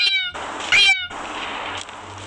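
A cat in a video game gives a few high, whiny meows, one near the start and a sharper one shortly after, over a steady hiss of background noise with no talking.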